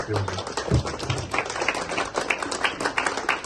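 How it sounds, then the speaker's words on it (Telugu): An audience at a police event in Sangareddy claps on request, a brisk patter of handclaps from a modest crowd, with someone speaking briefly at the start. "ఒకసారి గట్టిగా అది ఒక క్లాప్"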